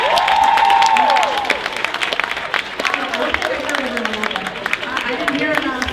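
An audience at an anime convention masquerade applauds walk-ons, cosplayers and performers, loud dense clapping and some cheering from a large indoor crowd that holds steady throughout, with a voice over a loudspeaker near the start.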